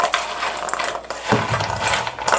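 Seasoned Brussels sprouts are mixed by hand in a bowl, making close, soft rustling and light clattering as the sprouts tumble against each other and the bowl in short, uneven bursts.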